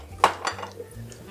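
A metal frying pan being set down and shifted on a stovetop with olive oil, two sharp clanks followed by lighter scraping and clinking, close and brief.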